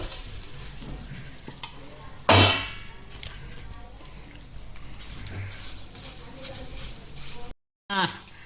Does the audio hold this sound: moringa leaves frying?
yes